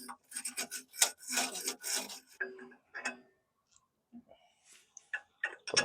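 A small wire brush scrubs the CB antenna mount on a classic VW Beetle, giving close, scratchy rasping strokes in quick bursts that trail off into a few scattered light scrapes.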